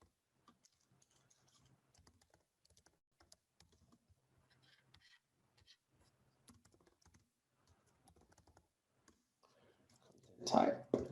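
A computer keyboard is typed on in quiet, scattered clicks and short bursts of keystrokes throughout, ending in a louder flurry.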